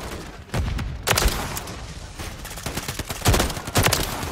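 Assault rifle fire in a Halo game, sharp bursts of shots in a mix of quick strings and separate loud cracks, close and punchy across the whole stretch.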